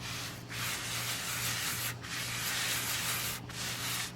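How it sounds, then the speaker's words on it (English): Sand being rubbed and ground into the joints of a compacted paver patio, a steady continuous scraping hiss with brief pauses between strokes, close and fairly loud with no talk. "keep feeding it again, rubbing it in, grinding it"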